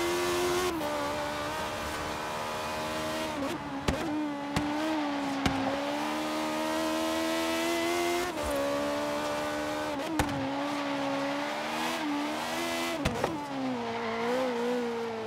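A BMW i8 fitted with a V8 engine roars steadily in Forza Horizon 3, its pitch rising and falling through gear changes, with a few sharp shifts and brief tire noise, no talking.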